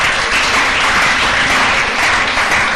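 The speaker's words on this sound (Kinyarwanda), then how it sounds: "Nkunda gusaba amashyi rero ubwo nkubwo nasaba amashyi ya Yesu" Loud, sustained applause from a church congregation clapping for Jesus during a service, a dense, steady wash of many hands with no voices standing out.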